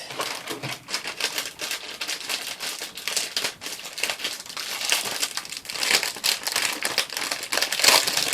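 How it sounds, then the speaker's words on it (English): Plastic packaging crinkles and crackles up close while a wooden Christmas craft kit is unpacked. The rustling bursts come rapidly and continuously and grow slightly louder toward the end, with no talk. "Sorry for the crinkles."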